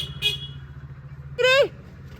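A car pulls up on a mountain village road in Uttarakhand and sounds a single loud horn toot near the end, after a brief earlier beep, over a low engine rumble.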